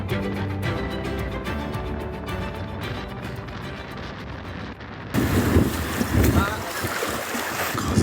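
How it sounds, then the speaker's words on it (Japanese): Strong wind buffets the microphone on a long stone pier at Taketomi Island, roaring in loud gusts that grow harsher toward the end, with waves and sea ambience underneath. "風が強いんで"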